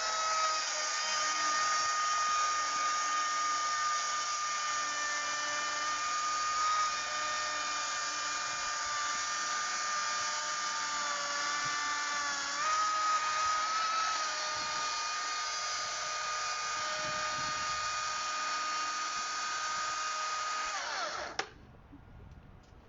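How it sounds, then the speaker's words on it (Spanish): A STIHL chainsaw with a dull chain cuts under strain, giving a loud, continuous high motor whine that holds steady for about twenty seconds before abruptly cutting off, with no talk. "Si se dan cuenta, la motosierra no se para."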